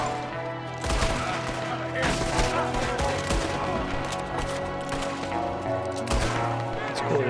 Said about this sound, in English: It's cool that it's shooting out my cover.